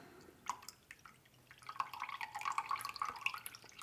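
Freshly squeezed lemon juice poured from one container into another, giving a thin trickling, splashing pour with small drips that builds and grows busier toward the end, close by and fairly quiet, with no talking.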